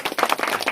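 A congregation claps hands at a Christian engagement ceremony, giving a quick run of fairly soft, uneven claps over less than a second, with no speech on top.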